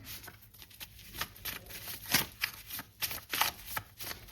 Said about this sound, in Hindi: इनको शफल करना मुश्किल है, पर आज ये शफल हो रहे थे